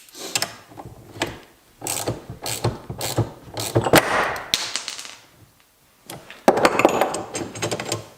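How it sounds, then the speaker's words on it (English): A harmonic balancer puller works on a Toyota Supra engine, giving rapid clicking ratchet bursts in uneven runs with short pauses, close and fairly loud. "Did the harmonic balancer pullers just work?"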